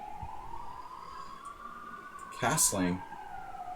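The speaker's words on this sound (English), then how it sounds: "Refreshing to hear a little bit more ambulances for a change." A distant ambulance siren wailing steadily outside in Budapest, a faint sustained tone running under indoor sounds, with a brief spoken word over it.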